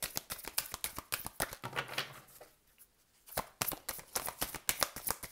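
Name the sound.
tarot cards being handled and laid out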